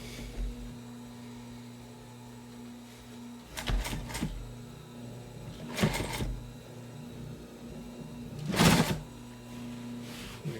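A sewing machine re-stitches weak thread on Sunbrella fabric in short bursts of rapid stitching over a low steady hum, with pauses between runs; the last burst is the loudest.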